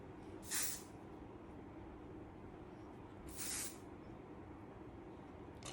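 Hairspray misted onto the back of a hair bun in two short hissing bursts, separated by a pause, over a steady low background hum.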